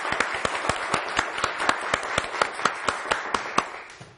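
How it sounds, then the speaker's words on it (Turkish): A Turkish television quiz-show studio audience claps for a contestant, steady rhythmic applause of moderate loudness that keeps an even beat throughout. "Vildan Hanım'a bir alkış verelim."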